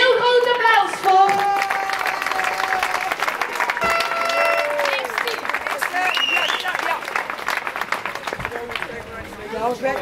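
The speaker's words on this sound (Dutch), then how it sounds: "Daar wil ik toch een heel, heel, heel groot applaus voor." A crowd applauds young children after a scooter step race in Drunen, with steady clapping mixed with cheering, whistles and chatter throughout.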